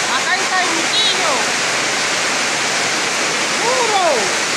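Heavy tropical downpour with rushing water pouring in a strong stream, a loud steady roar throughout, with faint whistling or bird-like calls over it.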